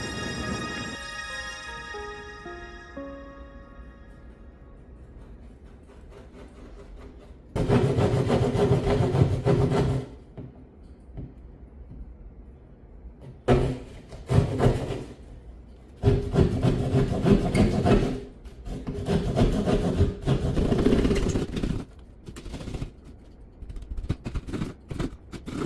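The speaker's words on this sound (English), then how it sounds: "Let's get that drywall saw up." A drywall saw cuts a hole in a wall for an electrical box. Bursts of rough, rasping back-and-forth strokes come in several separate runs, each lasting a few seconds, between quieter pauses after a fading tone at the start.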